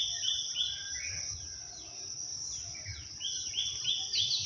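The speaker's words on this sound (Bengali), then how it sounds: "সকালবেলা পাখির আওয়াজ।" Morning birdsong drifts through a Bangladeshi village in Muladi, Barishal: soft, repeated chirps and trills come from middle distance over a faint insect buzz and quiet ambience.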